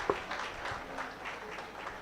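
Audience applause rising into a standing ovation at a Professional Insurance Ladies Association gathering, a dense, steady wash of many hands clapping at moderate distance with no voices on top.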